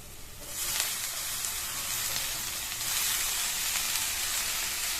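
Bitter gourd sautéing with crushed garlic on high flame, a loud continuous hissing sizzle that swells up after a quiet start and keeps going close by, without talk.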